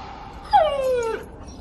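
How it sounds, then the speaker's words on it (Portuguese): A dog whimpers in a single rising-then-falling whine from the Christmas film The Grinch, close and clear over a quiet background with no talk. "com o seu cachorro Max."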